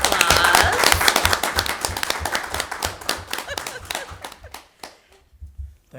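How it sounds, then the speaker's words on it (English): An audience at a city council meeting claps for an award recipient, the applause loud and brisk at first, then thinning into scattered claps as it fades out. "We could all give him a round of applause."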